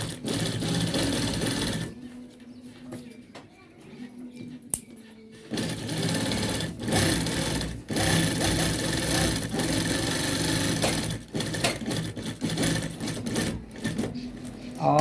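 A sewing machine stitches a topstitch line along a gents shirt collar, running in steady bursts separated by short pauses, with a voice talking in between.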